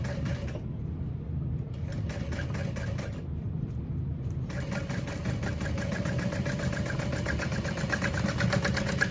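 A sewing machine bastes zipper tape into place on a sling, running as a steady mechanical hum and whir for several seconds, close and continuous with slight pauses in the stitching rhythm.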